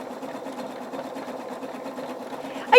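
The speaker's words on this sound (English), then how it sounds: "So let's just do stitch number 16. That's the, that's what I call a honeycomb stitch." A Husqvarna Viking Opal 690 sewing machine stitches a honeycomb pattern with a twin needle, its motor whirring close and steady with a fast needle rhythm, ending in a brief louder click.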